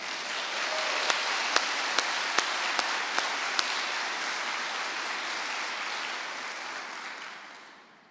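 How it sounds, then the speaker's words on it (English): An audience at NASA's Stennis Space Center applauds two engineers from the B2 test stand, steady sustained clapping with a few sharp louder claps early on, fading out at the end. "Would you two please stand up so we can give you some applause?"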